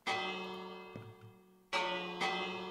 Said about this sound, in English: Well, we have a bell for some reason.